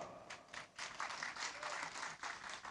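A crowd at a NasDem political gathering in North Sulawesi applauds, a dense, fairly distant wash of clapping lasting the whole stretch.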